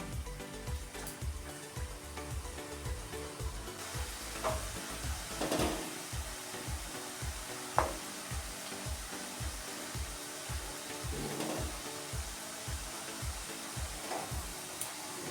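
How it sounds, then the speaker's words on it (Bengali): Nimki dough pieces frying in hot oil, a steady broad sizzle with bubbling, broken by occasional clinks and stirring sounds near the pan. "এভাবে আমি সব ভেজে নিই।"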